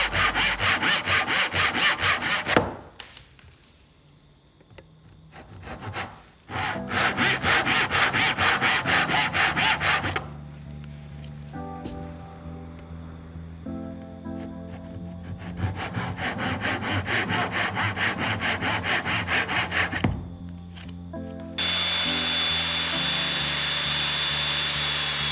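A Japanese dozuki pull saw roughly cuts wood a few millimetres outside the marked line while building a bed, with loud, rhythmic rasping strokes in several bursts separated by short pauses.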